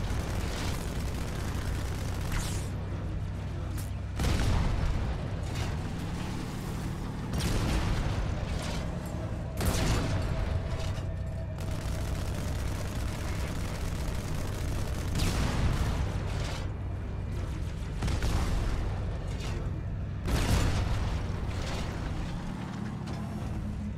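Gunfire in the Halo 2 video game: repeated loud bursts of shots and blasts over a continuous rumbling game soundtrack, coming in clusters throughout.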